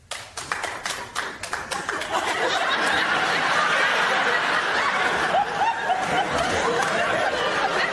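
Audience at a stand-up comedy show responds with a few scattered claps that swell into a dense wash of clapping mixed with chuckles and laughter, continuing steadily throughout.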